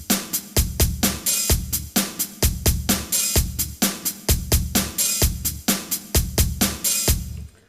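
A programmed drum pattern on a Roland JD-Xi synthesizer, with punchy bass drum and snare hits over steady closed hi-hats and an open hi-hat accent, looping in a tight, even groove with no voices.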